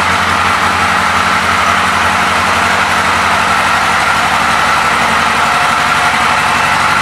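A 1982 Kawasaki KZ1100 motorcycle engine running at a steady idle, loud and close, a continuous throbbing rumble with an even pulse and no talking.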